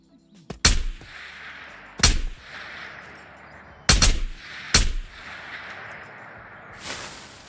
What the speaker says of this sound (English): now they're going to shoot me.